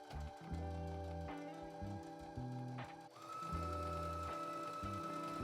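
Sewing machine stitching a 3/8-inch seam in fabric for a top or dress: a steady, close mechanical whir with shifting motor tones, running continuously through the clip.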